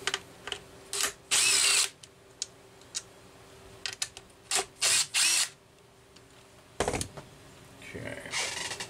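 Mechanical clicks and short grinding bursts as a screwdriver loosens the two screws on the chamber plate of a Homelite 330 chainsaw, close up and irregular, with quiet gaps in between.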